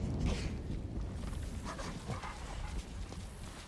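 A pack of dogs barks, yips and whimpers at close range in the samurai game Ghost of Tsushima, over a rumbling, busy background.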